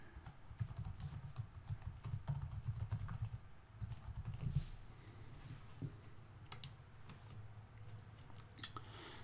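Quick bursts of keystrokes tap on a computer keyboard as a username and password are entered, with a dense rapid run early on, then sparser clicks and pauses, close and fairly quiet.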